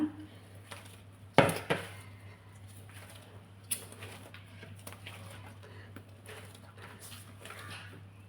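Maida flour dough being kneaded by hand in a bowl, with soft patting and pressing sounds, a sharp clatter of a pot or utensil, and a few lighter knocks against a steady background hum.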